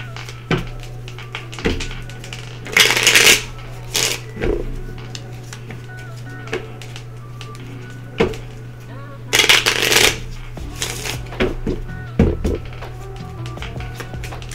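Island Time Wellness Love Oracle cards are shuffled by hand in repeated short riffling bursts with soft taps and handling. A steady low hum runs underneath, and a voice talks between the shuffles.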